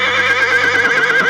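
Horse neighing, a single loud close whinny with a bright wavering tone lasting about a second.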